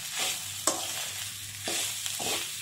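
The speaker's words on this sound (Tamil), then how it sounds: "பாயில்டு ரைஸ் போட்டு நல்லா கிளறி விட்டுக்கோங்க, கட்டி இல்லாமல் கிளறி விட்டுக்கோங்க" Boiled rice is stirred in a pan for tamarind rice, with a few scraping stirs over a soft sizzle, heard close and without talking.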